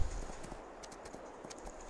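Horse hooves clip-clop at a steady walking rhythm in Farming Simulator 22, quiet and even, with faint game ambience underneath and no talk.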